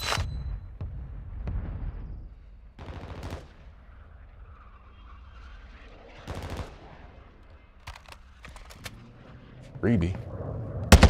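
Scattered gunfire in a video game: several sharp, close bursts spaced irregularly across the stretch, with a low background hum, brief speech, and a louder cluster near the end.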